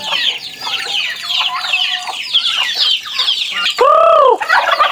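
Chickens cluck and chatter loudly and close by while waiting for their breakfast feed, a busy overlapping flock with one rooster-like call standing out near the end.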